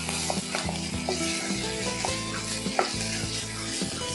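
Chicken sautés with spices in a pan, a continuous crackling sizzle close up with occasional utensil scrapes and taps over a low tonal hum in the background.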